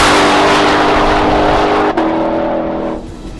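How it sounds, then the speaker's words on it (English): A Ford Mustang engine roars under hard acceleration, loud and close, with a sustained rising snarl, a brief gear-change dip, then a slight fade. "when you put your foot to the floor, it roars"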